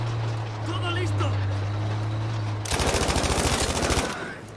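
Rapid automatic gunfire in Battlefield V breaks out midway as a dense, loud string of close shots lasting over a second. It follows a stretch of low engine drone and ambient battlefield noise.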